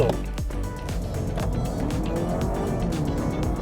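Honda Civic Hybrid e:HEV pulling away from a standstill in a drag race, a steady rising motor and road hum with tire noise, heard from inside the car while voices talk over it.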